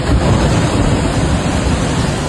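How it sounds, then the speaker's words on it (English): Storm waves 3 to 4 meters high crash against a city malecón boardwalk during Hurricane Priscilla in Baja California Sur. They make a loud, steady, broadband roar of surf with no talk. "Waves reached heights of 3 to 4 meters, crashing violently against the city's famed malecón boardwalk"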